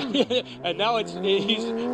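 A Porsche GT3 Cup race car spins its wheels on damp runoff at turn 8 during a 2018 GT3 Cup Challenge Canada race at Canadian Tire Motorsport Park. The engine revs rise and fall in bursts while a commentator talks over it.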